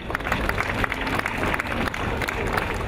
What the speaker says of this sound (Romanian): Ion Căpățână, aplauze, vă rog frumos!